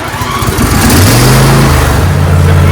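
A John Deere LA165 lawn mower tractor engine cranks and fires up, then settles into a loud, steady rumbling idle close by, with no talking over it.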